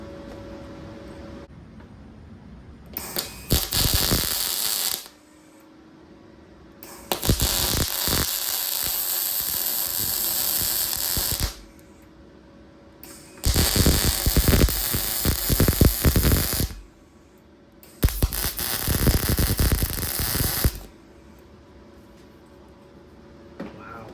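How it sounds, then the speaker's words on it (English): Arc welding a nut onto a steel foot of a cylinder head stand with a Yes Welder DP200: four loud, crackling bursts of several seconds each, separated by short pauses of low hum. "I'm just going to weld the nut here to this foot."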